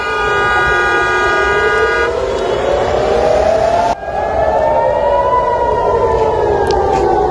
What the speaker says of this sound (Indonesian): sirine tanda peringatan terdengar di sejumlah titik di Tel Aviv